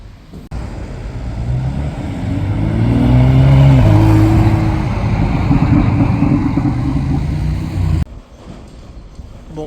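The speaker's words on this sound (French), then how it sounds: "on se retrouve avec un magnifique Porsche Carrera 4 GTS, la 991" A Porsche Carrera 4 GTS of the 991 generation drives past on the street, its engine swelling to a loud close roar midway, then fading before cutting off.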